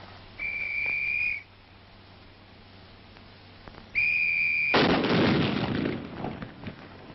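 A rifle being proof-tested fires a single loud, sharp blast with a brief rumbling decay, preceded by two steady whistle tones.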